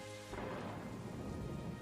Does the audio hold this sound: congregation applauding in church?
no